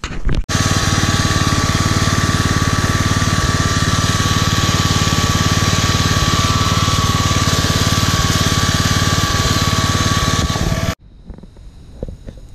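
Chainsaw cutting a pit bike trail through brush, a loud continuous engine roar held steady for about ten seconds before cutting off abruptly into quiet outdoor ambience.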